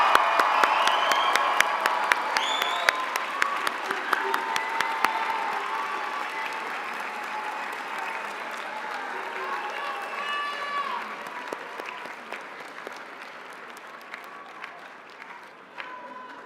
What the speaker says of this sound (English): One more round of applause for all our graduates.